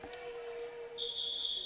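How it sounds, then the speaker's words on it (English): A referee's whistle at a varsity high school volleyball match, faint and thin in a quiet gym: one sustained tone, then a higher, brighter blast that holds to the end. "As we get a whistle"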